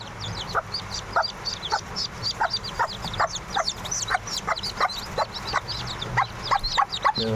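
A hen with her newly hatched chicks: rapid high peeping from the chicks runs throughout, with repeated low clucks from the mother at a steady pace, close and moderately loud.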